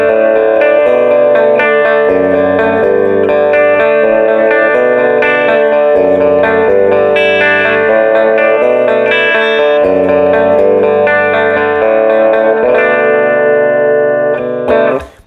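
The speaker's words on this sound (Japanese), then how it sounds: "ちょっと鳴らしてみましょうか。 このギターはこんな音がします。" Les Paul-type electric guitar played through effects, rich sustained chords and melodic lines with a warm, thick tone and reverb, loud and steady throughout before cutting off at the very end.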